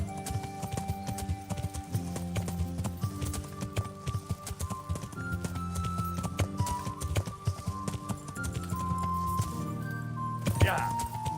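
A horse's hooves clip-clop in a steady, rhythmic trot in a video game, mixed with tonal game music and a short whinny near the end.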